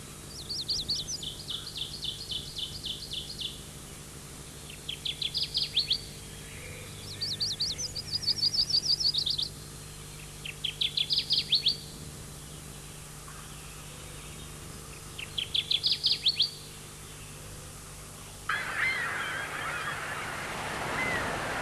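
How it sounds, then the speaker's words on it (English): A magnolia warbler sings a run of short, bright, buzzy phrases, about five bursts spaced a few seconds apart over a quiet outdoor background. A louder hiss of noise comes in near the end. "One of my favorites is the magnolia warbler."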